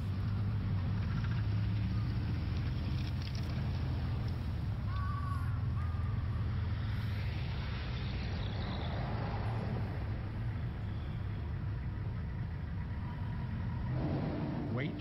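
Dense Tokyo road traffic rumbles steadily nearby, engines and tires blending into a constant roar, with brief crow caws rising above it.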